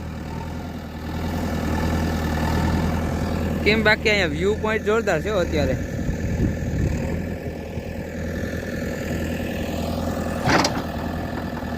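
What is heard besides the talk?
JCB excavator engine running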